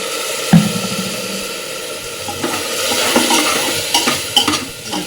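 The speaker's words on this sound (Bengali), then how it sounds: "মশলাটা কিন্তু প্রেশার কুকারের মধ্যে ভালো মতন কষে গেছে" Spices sizzle and fry in a pressure cooker while a utensil stirs and scrapes against the metal, with occasional clinks, close and steady.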